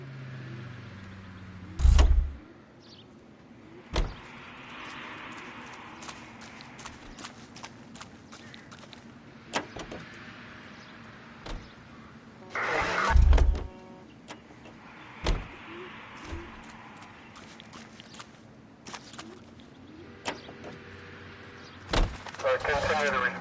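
A car in the LA Noire Remastered video game rumbles quietly under a low hum, broken by sharp clicks and knocks and a couple of heavier thumps, while voices talk intermittently.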